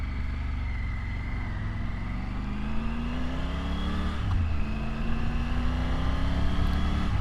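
A Triumph Tiger 900 Rally Pro triple-cylinder motorcycle engine revs and pulls under way, its whining, gruff note rising in pitch through several climbs, loud and continuous with road and wind noise mixed in.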